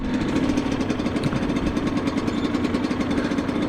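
A 2003 Yamaha TDR 125 two-stroke motorcycle engine on the move, a steady loud buzzing drone with a rapid pulsing texture while riding through the gears, close and continuous without speech.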